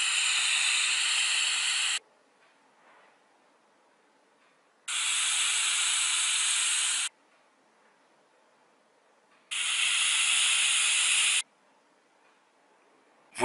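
A Vapefly Wormhole RDA dripper, single coil at 0.2 ohms, fired at 50 watts, gives three steady hissing draws of about two to three seconds each, separated by near-silent pauses, close and alone.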